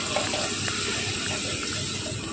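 Water poured steadily into a pot of lentils, vegetables and oats for breakfast khichdi, a soft continuous hissing pour with faint sizzle, close and fairly quiet, no talk.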